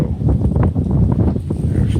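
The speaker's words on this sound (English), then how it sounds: "sorry about the wind" Wind blows steadily outdoors, buffeting the microphone with continuous low rumbling and rustling noise for a couple of seconds.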